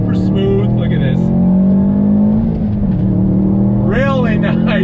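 Subaru WRX STI engine downshifting from second gear under braking, a steady mid-pitched engine drone running throughout with a short rev change near the end, while people talk over it inside the car.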